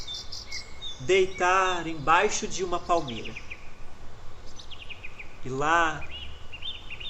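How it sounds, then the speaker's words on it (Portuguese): Songbirds chirp and trill near a palm tree, with repeated bright calls rising and falling over a faint insect buzz while a voice narrates throughout. "ouvindo o cantar dos pássaros, adormeceu"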